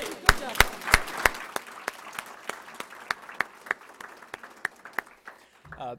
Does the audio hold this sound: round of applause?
yes